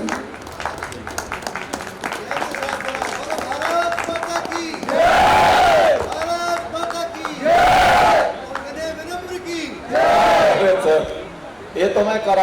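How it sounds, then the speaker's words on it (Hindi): An audience at a Hindi poetry recital breaks into loud applause and cheering, with three swelling waves of clapping between stretches of crowd noise and a voice on a PA system. "जोरदार तालियां"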